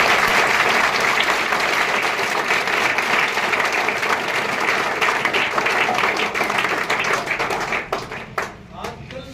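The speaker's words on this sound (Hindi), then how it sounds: "इनके लिए तालियाँ" A seminar audience at a public school breaks into sustained applause, dense and steady for about eight seconds before thinning and tapering into scattered claps at the end.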